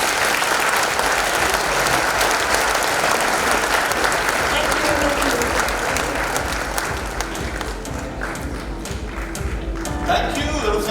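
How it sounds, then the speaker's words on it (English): Sustained audience applause at the inaugural of a summit, a dense wash of many hands clapping steadily for the whole stretch, with a few scattered voices and taps in the crowd. "Ladies and gentlemen, Zoya, Akhtar, round of applause."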